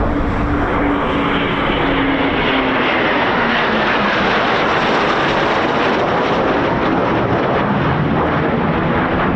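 Eurofighter Typhoon FGR4 jet passing at RAF Coningsby, a loud, dense roar of jet engine noise that fills the whole clip at steady intensity, with a faint falling tone as it goes by.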